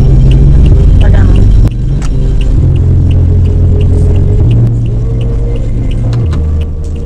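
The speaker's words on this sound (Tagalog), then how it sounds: "yung sasakyan natin" Vehicle engine rumbling at a parking area by a floating cottage in Bacacay, Albay: a loud, close low rumble that shifts and dips in places, with faint clicks and a voice murmuring in the background.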